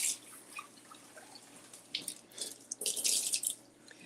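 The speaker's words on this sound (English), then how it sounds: "We're going to give them a quick rinse" Cherry tomatoes rinsed under a running kitchen tap, soft splashing and trickling water with a few drips, rising into a fuller gush near the end, no talking.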